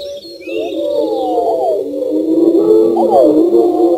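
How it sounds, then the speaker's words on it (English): Many birds singing together in a forest blend into a continuous tonal patchwork of overlapping whistles and sliding calls. The chorus is loud and close, with no single voice standing apart. "all around you, you hear a myriad of birdsong, no single voice distinct, all blending in a constant but changing tonal patchwork"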